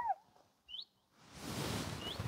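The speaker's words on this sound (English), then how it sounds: "It's a bird." Brief, thin bird chirps come in a few quick notes, fairly faint, over a soft rising hiss of background noise, by a lake in the Black Forest, Germany.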